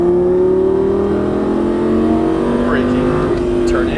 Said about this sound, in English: Ease down throttle as you look wide.